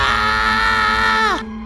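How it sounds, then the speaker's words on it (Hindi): A child's scream rings out as a sound effect in a spoken horror story, a loud sustained wail with rich harmonics that bends downward and cuts off sharply near the end, leaving a low hum. "बच्चे की चीखने की आवाज गूंज उठी।"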